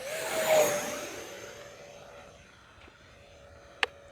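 A Horizon Hobby F-15 Eagle 64mm electric ducted-fan RC jet whooshes past overhead at low throttle, its whine swelling near then fading into the distance, ending with a sharp click.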